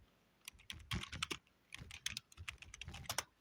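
Someone types on a computer keyboard in quick, uneven bursts of close key clicks, with short pauses between the runs and no talking.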